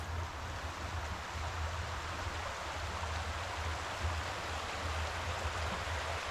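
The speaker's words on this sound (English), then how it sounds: "It was absolutely amazing to hear the sound of the water all night long." Water rushes steadily in a flowing stream at a campsite in North Georgia's Deep Hole Recreation Area, a constant broadband gurgle and hiss with a low rumble, with no voices.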